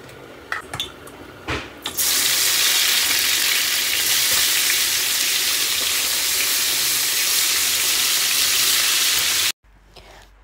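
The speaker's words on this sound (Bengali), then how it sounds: "ইলিশ মাছের মাথাটাই যে আমি ভালো করে ভেজে নিছি" Salted, turmeric-rubbed hilsa fish heads hit hot oil in a kadai, giving a sudden loud, steady sizzle that holds for several seconds before cutting off, after a few quieter kitchen clinks.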